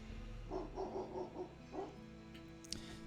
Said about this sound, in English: From a distance, he faintly hears the sounds of Colby's relentless barking as it gets further away from the house.